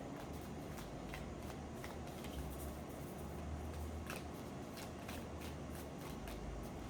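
Tarot cards being shuffled close by, a steady papery riffling and rustling with soft repeated flicks that continue for the whole stretch with no talking.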